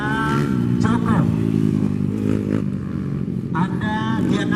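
150 cc MX motocross bikes race past, their engines buzzing and revving steadily under a continuous commentator's voice in Indonesian.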